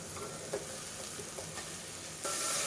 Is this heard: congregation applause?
no